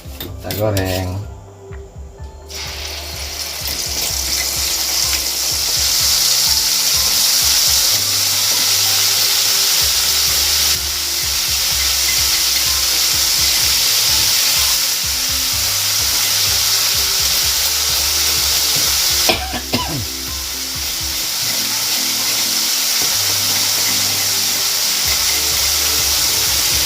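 Chili and turmeric spice paste frying in vegetable oil in a pan, with a steady sizzle running throughout under clinks and scrapes of a utensil against the pan.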